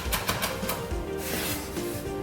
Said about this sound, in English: And a few more chops.